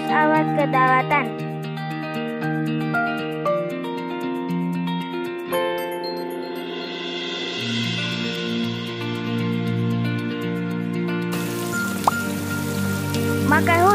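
Steady rain patter with tinkling drops over a soft musical background, continuous and moderately loud throughout.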